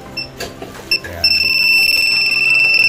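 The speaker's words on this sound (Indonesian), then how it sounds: "Remote lang po yung magbabibrate at tutunog." A two-way alarm remote for a Yamaha Aerox V2 motorcycle gives short high beeps, then settles into a steady, loud continuous tone that holds to the end.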